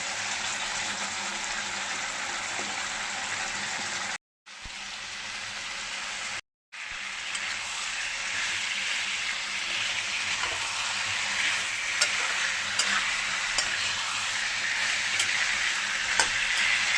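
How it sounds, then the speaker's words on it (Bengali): Bottle gourd hits hot spiced oil in a pan and fries with a strong, continuous sizzle, with a few brief breaks near the start and occasional scraping clicks as it is stirred and sautéed. "লাউটা দিয়ে ভালো করে নাড়িয়ে চাড়িয়ে একটু কষিয়ে নেব"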